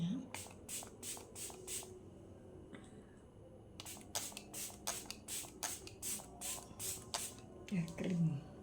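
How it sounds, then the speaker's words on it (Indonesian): Studiotropik setting spray misted onto a face, several bursts of quick pumped hisses in two runs, close and soft, with brief handling rustles between. "Semprot pakai Studiotropik"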